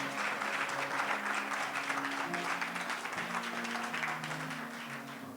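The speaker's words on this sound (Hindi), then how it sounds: "जोर से ताली बजाओ, हालेलुया।" A congregation claps loudly on cue during a Hindi church sermon. The applause is steady and crowded and fades slightly toward the end, with a faint tonal hum beneath it.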